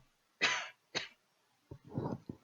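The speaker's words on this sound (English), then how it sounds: "let me mute my mic because I have to cough" Two sharp coughs close to the mic, followed by a rougher throat-clearing burst and a final short cough, with quiet gaps between.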